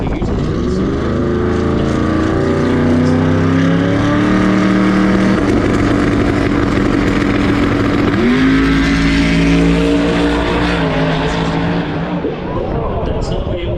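A drag race car on a track roars loudly and steadily for the whole stretch, its engine pitch rising and dipping in long sweeps, with no talking.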